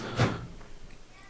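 A full-width drawer on a rolling wooden workbench slides and bumps shut with one quick, close knock, followed by faint rustling and light scraping as it moves again.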